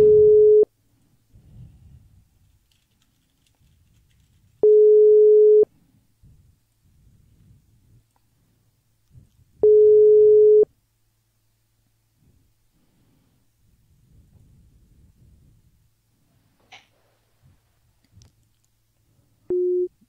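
Telephone busy tone after a dropped call: four steady beeps spaced about five seconds apart, with faint background rumble between them and no speech.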